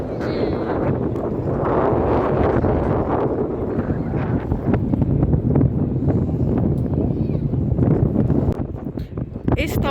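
Strong wind buffets the microphone outdoors in Saudi Arabia in a constant low rumble, with muffled voices and scattered knocks underneath.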